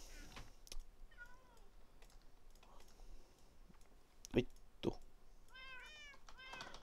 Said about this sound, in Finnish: kissat huutaa